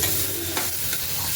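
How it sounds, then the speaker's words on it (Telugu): Ivy gourd stirred while frying in a pan, a steady close sizzle with brief scraping strokes of the stirring, loud and continuous. "అదిగోండి మా అక్క కలుపుతున్నట్టు కలపాలి గాయస్"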